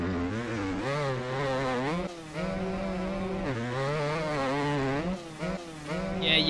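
A two-stroke dirt bike in the MX Bikes racing game revs hard, its buzzing, high-pitched engine note rising and falling in pitch as the throttle is worked, loud and close throughout.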